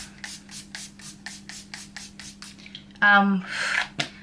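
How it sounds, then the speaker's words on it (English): Pixie Skin Treats Glow Mist. Steady rhythmic rubbing strokes come first, then a short close hiss of a single facial mist spritz, with a brief tonal sound just before it. "It's a Pixie Skin Treats Glow Mist. So I literally just do like a spritz."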